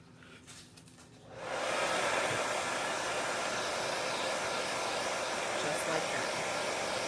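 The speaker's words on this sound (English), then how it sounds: "I'm going to take my hair dryer again and dry this" After a moment of quiet talk, a hair dryer switches on and blows with a steady, loud roar that continues to the end, drying chalk paste on a beaded chalkboard sign.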